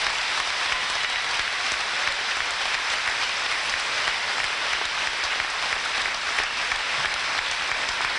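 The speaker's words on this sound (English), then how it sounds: "Please give them your applause." Sustained, dense applause from a large audience at the Ste. Genevieve High School graduation ceremony, filling the room steadily from start to finish with no speech over it.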